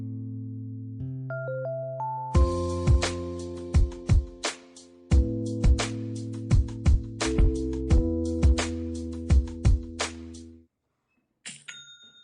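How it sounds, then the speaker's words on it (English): A Shopify sale notification plays: a bright electronic chime melody with repeated plinking tones, several rising notes, then a busy stretch of overlapping chimes that stops abruptly, followed by a brief final ding, clear and alone. "That is the sound of another sale or another dollar hitting your Shopify e-commerce store"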